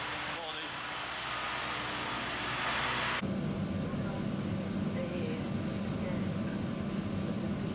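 A Logan Air utility aircraft, originally registered in Canada, runs its engines at a beach runway on Barra, a broad roar that shifts abruptly partway into a deeper, heavier rumble as reverse thrust builds, with a voice talking over it.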